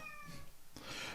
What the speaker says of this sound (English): You think I should be nice to the cat